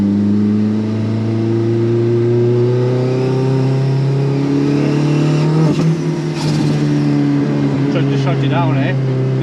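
A Toyota AW11 MR2 engine with rolling antilag revs hard under sustained full throttle, a loud steady harmonic drone rising in pitch with crackling pops near the end, while people talk over it inside the car.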